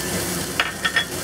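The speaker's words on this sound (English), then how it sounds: "add a little bit of extra oil and add the shallot," Shallot, ginger and onion sizzling in hot oil in a wok for Sichuan dry braised shrimp, a steady close frying hiss with a few light utensil clinks.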